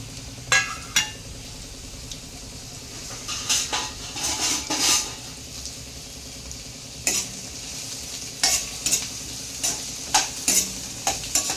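Ingredients fry lightly in a little oil in a pan for a spinach chicken curry, with a low steady sizzle broken by scattered scrapes and clinks of a spoon stirring against the pan.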